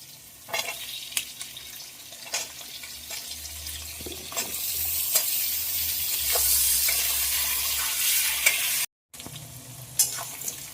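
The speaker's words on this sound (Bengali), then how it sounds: "আলু আর পেঁয়াজ কিন্তু ভাজা হয়ে গেছে।" Potato and onion frying in hot oil with cumin and bay leaves for a potato and katla fish curry, giving a steady close sizzle and hiss with a few stirring knocks and a brief cut near the end.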